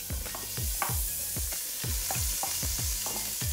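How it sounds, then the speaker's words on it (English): Butter melting in a hot pan while stirring, the first step for pink tea, halwa and channeh, with repeated scraping strokes of a utensil about every half second over a steady soft sizzle, no talking. "So first thing you want to do is add the butter into the pan."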